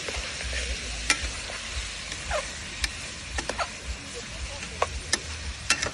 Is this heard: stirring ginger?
yes